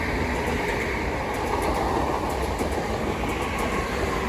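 Southeastern electric train, Class 465 and 466 units running from Tunbridge Wells to London Charing Cross, passing through New Cross station with a steady loud rolling rumble and faint rhythmic wheel clicks.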